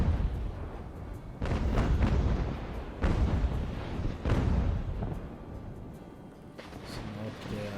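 A sailing warship fires a cannon broadside in the naval video game Ultimate Admiral: Age of Sail. Three heavy booming volleys roll out about a second apart over rumbling battle noise, with a voice speaking.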